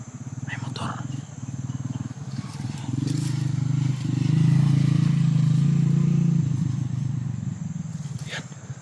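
Motorcycles climb a hill toward a hillside camp, a low droning engine rumble that swells louder in the middle as the bikes pass close, then eases off, with faint voices in the background.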